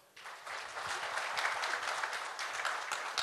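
An audience at an event claps together, swelling quickly from quiet into a dense, even applause that holds steady for a few seconds.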